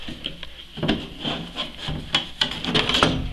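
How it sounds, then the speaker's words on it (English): A treadmill motor cover being pulled off, heard close as scattered plastic scrapes, rubs and knocking clicks over a few seconds, with no talking. "And we're going to take the cover right off."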